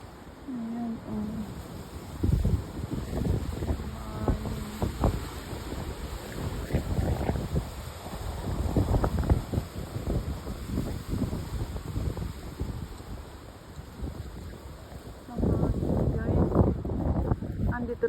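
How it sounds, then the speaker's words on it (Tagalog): Strong wind gusts outdoors and buffets the microphone in rough, uneven surges, while someone talks throughout. "Lakas ng hangin ngayon, guys."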